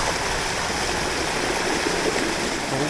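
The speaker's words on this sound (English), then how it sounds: "We're still doing river crossings." Steady rushing river water roars loud and unbroken as an off-road vehicle crosses it, a dense wash of splashing flow with no voices.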